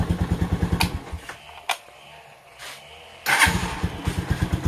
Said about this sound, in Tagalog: wala tayong problema sa starting ng ating motor